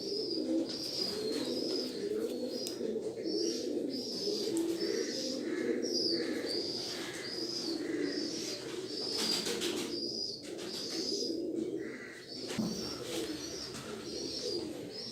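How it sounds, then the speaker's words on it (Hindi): Teddy pigeons kept for breeding coo softly in a loft, a repeated low throaty rhythm with occasional chirps and a brief wing flutter, all fairly faint and without talking. "ये मोस्ट फेवरेट कबूतर है, बहुत फेवरेट कबूतर है मेरा"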